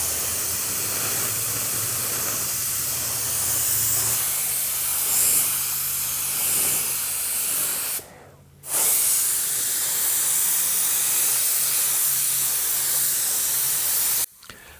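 Spray gun laying automotive paint at low air pressure, about 20 psi, with a wide-open fan pattern: a loud, steady close hiss running continuously, broken by one brief pause midway and a short cut near the end.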